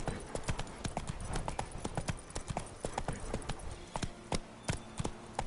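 Hooves of a galloping horse in The Witcher 3, a fast, sharp clatter of close, distinct hoof strikes repeating steadily across the whole stretch.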